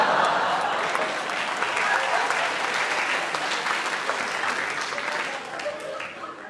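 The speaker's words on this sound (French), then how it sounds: "On applaudit Bertrand, on applaudit Bertrand." A comedy-show audience applauds steadily for several seconds, a thick wash of many hands clapping that tapers slightly toward the end, with faint voices underneath.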